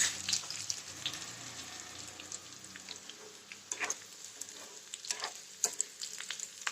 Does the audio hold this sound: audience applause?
no